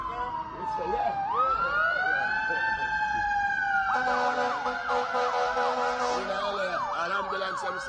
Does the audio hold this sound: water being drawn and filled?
no